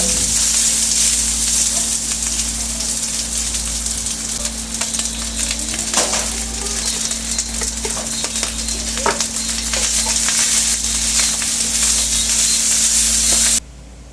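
Leftover rice stir-fried into sinangag in a pan for breakfast: loud, continuous sizzling and frying with occasional scrapes and clinks of a utensil against the pan, steady throughout before cutting off at the end.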